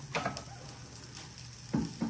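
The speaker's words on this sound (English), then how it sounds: "the sausages are browning" Sausages brown in a pan, giving a soft continuous sizzle, with a few quiet clinks and stirring sounds close by.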